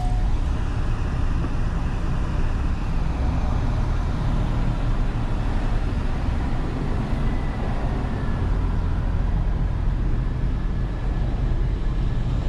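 A 1992 Oldsmobile Delta 88 engine running steadily, a loud, continuous low rumble and drone that holds even throughout with no pauses.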